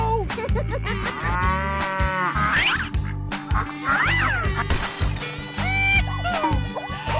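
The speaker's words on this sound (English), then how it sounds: "Cow." A cow moos several times in a row, mixed with other cartoonish animal calls including quacks, each call fairly close and loud over a busy background.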